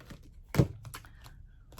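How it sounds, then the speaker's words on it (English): Tarot cards are handled close up: a sharp snap of cards is followed by softer papery taps and slides, sparse and quiet. "I'm going to shuffle these back in"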